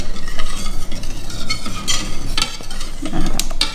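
Melted chocolate vigorously stirred into an egg and sugar batter in a bowl, loud close scraping and clinking of utensil against the bowl in rapid, uneven strokes, no voices.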